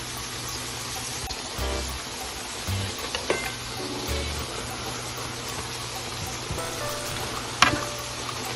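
Buttered shrimps and vegetables sizzling steadily in a pan while being stirred, with scraping utensil strokes and occasional clinks against the pan, close up and moderately quiet.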